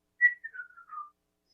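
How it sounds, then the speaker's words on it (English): A lone whistled tune of a few short notes gently sliding downward, clear and close, in a quiet setting with nothing else heard. "He whistles."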